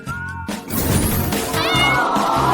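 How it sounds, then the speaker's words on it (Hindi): A cat meows repeatedly against a loud, busy background of mixed sound, the calls clear and close throughout. "और ये बिल्ली तुम्हारे पास जाएगी।"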